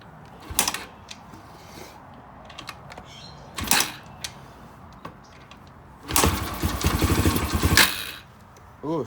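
A Yamaha TTR 125 dirt bike is kicked over several times with sharp mechanical bursts, then catches near the end and runs roughly for about two seconds before dying out.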